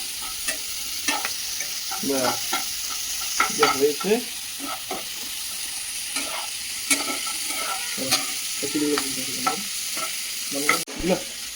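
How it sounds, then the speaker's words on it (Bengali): Rice and spices frying with turmeric in a pan at a picnic are stirred with a utensil. Scraping strokes repeat over a steady hiss of sizzling oil, close by and moderately loud. "এবার একটু নাড়াচাড়া করে নেবো"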